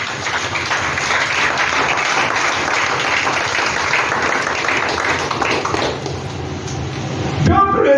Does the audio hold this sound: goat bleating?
no